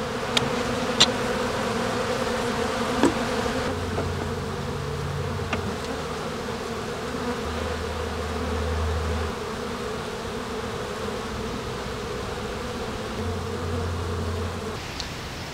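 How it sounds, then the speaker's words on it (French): A dense, steady buzz of many bees swarming close by at a hive entrance in autumn, continuous throughout with a few faint low hums drifting in and out. "considérant la quantité d'abeilles qu'il y a"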